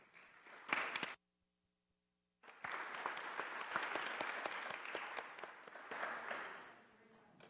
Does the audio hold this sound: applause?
yes